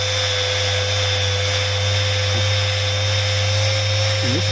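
Rotary power tool set to grinder mode sanding off resin, a steady high-pitched electric whine that holds constant and loud throughout, alone without voices.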